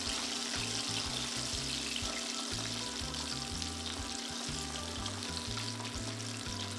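Chicken pieces fry in hot oil until golden brown, a steady close bubbling sizzle that runs unbroken with a low hum beneath it and no voices.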